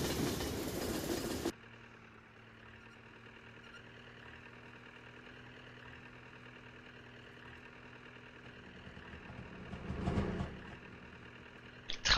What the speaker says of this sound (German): Hintergrund fährt gerade der Zug.